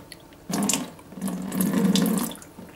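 Dirty acid cleaning solution poured out of the plate heat exchanger of a Junkers Euroline ZW 23 KE gas boiler, a steady close splashing stream that starts abruptly, dips briefly, then runs strongly before tapering off.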